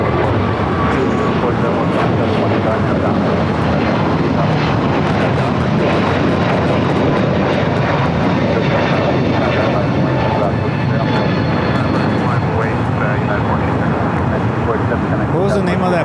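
United Airbus A321neo jet at LAX, a loud sustained engine roar filling the whole stretch, heard from nearby with people talking over it.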